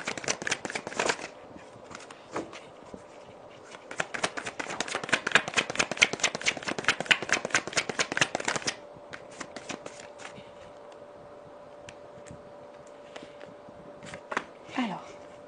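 Tarot cards being shuffled by hand, a long run of quick riffling bursts with a few short pauses, fairly close and moderately loud, followed by quieter scattered card sounds near the end.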